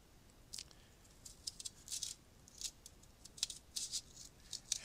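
Paper being cut with scissors, a series of short, crisp snips in irregular bursts, close and fairly quiet, with no talking.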